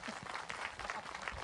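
Church congregation clapping during a Hindi sermon, a dense steady patter of many hands filling the whole moment at moderate volume, with no voices over it.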